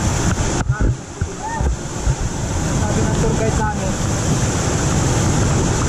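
Strong rushing water near Bagumbungan Cave, a steady loud roar throughout while a person talks over it.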